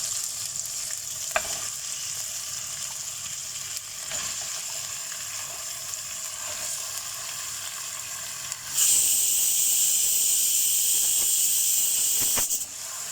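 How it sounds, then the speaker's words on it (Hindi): Mutton sizzles and hisses as it fries in spices for nihari, a steady frying noise that grows noticeably louder and brighter partway through before easing off near the end, with no talk. "मटन को इसमें फ्राई करना है"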